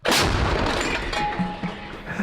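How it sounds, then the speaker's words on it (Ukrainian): A single loud artillery cannon shot in the Pokrovsk area of Ukraine booms nearby, followed by a rolling echo that fades over a couple of seconds. "Гармата!"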